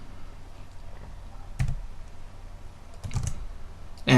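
A few close keystrokes on a computer keyboard arrive in small separate clusters, clicky and fairly loud over a quiet background, ending in a sharper tap.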